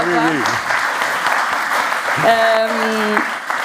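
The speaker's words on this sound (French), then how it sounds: "On applaudit le papa de Noémie." An audience in a hall applauds a guest's father during a Mulhouse stage show, a sustained wash of clapping with musical tones sounding over it partway through.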